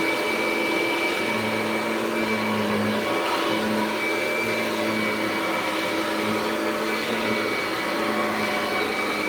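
A Kirby vacuum cleaner shampooing carpet runs continuously at close range, a loud steady motor whine with no breaks.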